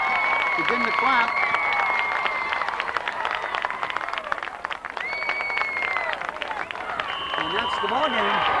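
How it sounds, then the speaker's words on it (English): Football crowd at a 1998 high school varsity game, Ipswich vs Pentucket, applauding as the clock runs out; steady scattered clapping fills the stands while a nearby voice talks and chatters over it. "And the fans begin to clap."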